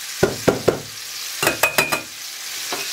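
Vegetables and chicken hearts frying in a pot, a sizzle broken by several quick stirring scrapes and knocks in short bursts, close and fairly loud.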